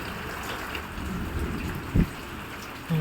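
Heavy rain falling outdoors during a downpour, a continuous hiss of drops on surfaces, with a couple of brief louder thuds or splashes standing out near the end.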